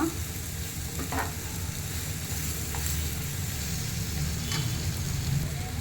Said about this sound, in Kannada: ಸ್ವಲ್ಪ ಹುಣಸೆ ರಸ ಹಾಕೊಳ್ತಾ ಇದ್ದೀನಿ